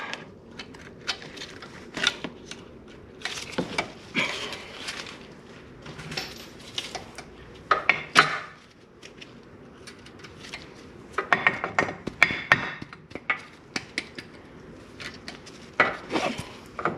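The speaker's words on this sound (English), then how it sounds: "Now I'm going to remove the cotter pin." A cotter pin is worked out of the front lower ball joint of a 2006 VW Beetle, giving irregular small metallic clicks, scrapes and taps from pliers on the pin, close and fairly quiet, with no talking.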